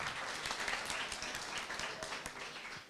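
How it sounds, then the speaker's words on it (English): Applause from an audience gathered at a brewery for a political discussion evening, a steady, moderately distant wash of clapping throughout. "let's have a big round of applause."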